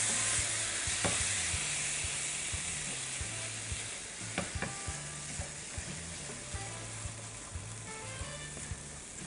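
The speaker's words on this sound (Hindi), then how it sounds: "और अब आप इसमें डालेंगी ये काजू मगज़ की पेस्ट। इसको मिला लीजिए अच्छे से।" Cashew paste is stirred into frying onions for shahi malai kofta: a soft sizzle under a low repeating hum, with scattered utensil scrapes and knocks, and no talking.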